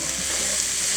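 Flour stirred into lamb stew frying in a pot, a dense continuous sizzle with faint stirring scrapes underneath, loud and close, no talk.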